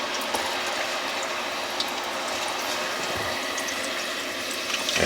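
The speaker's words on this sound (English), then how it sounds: "And just like that, we're frying." Steady, loud sizzling and crackling of fish frying in bubbling hot oil, a dense continuous hiss with small pops throughout and no talking.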